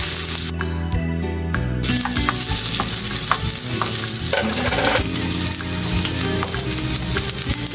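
Garlic with brown sugar sizzles in a pan for beef kare kare, a loud crackling fry with stirring scrapes, and music plays underneath throughout.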